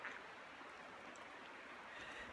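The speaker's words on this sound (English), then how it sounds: "You can hear the river down there. It's running pretty hard." The Trinity River running hard somewhere below a deck, a faint, steady rushing flow heard from a distance with no break.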